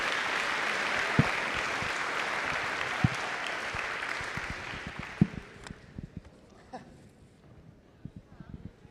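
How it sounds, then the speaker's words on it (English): A crowd at a high school senior awards ceremony breaks into sustained applause that gradually fades, with a few sharp thumps and scattered claps as it dies down. "So could we give a round of applause to Pierce Barrett"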